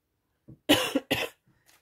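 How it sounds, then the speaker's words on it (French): A short burst of two or three close, harsh coughs, preceded by a faint breath, in an otherwise quiet room. "je suis désolée pour ma toux."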